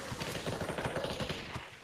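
Rapid automatic gunfire in the VR shooter Population: ONE, a quick rattling burst of shots that runs for the whole two seconds at moderate loudness.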